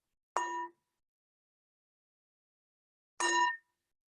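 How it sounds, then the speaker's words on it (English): A meditation bell is struck twice to close a practice session, two clear ringing tones about three seconds apart, each fading quickly into complete silence. "So the bell invites us to let go of the formal practice"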